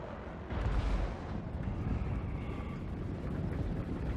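Cannon fire in the Total War: Warhammer II battle game opens with a heavy boom about half a second in, followed by a sustained rumbling, crackling wash of battle noise.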